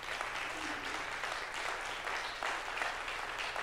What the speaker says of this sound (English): give your clap offering to the Lord Jesus Christ.